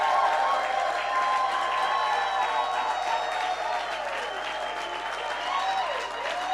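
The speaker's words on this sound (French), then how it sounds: "Nous allons lui donner des acclamations, pousser des cris de joie." Congregation at a women's weekend church gathering applauding and cheering, a steady wash of clapping with voices and whoops mixed in and music-like tones running underneath.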